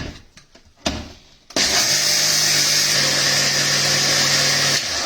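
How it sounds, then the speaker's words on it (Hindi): Wet grinder churning soaked rice for dosa batter, starting up after a few faint knocks and then running as a steady, loud motor whir with grinding texture that continues unbroken to the end. "तो अभी हम इसको भी ग्राइंड करके लाते हैं"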